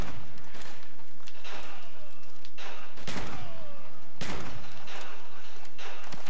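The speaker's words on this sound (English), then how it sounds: "This is actually a really good gun. Honestly, it's probably the best shotgun." A shotgun blasts in a combat training video game, with several loud, sharp shots in quick succession over dense continuous gunfire and game noise, with no talk.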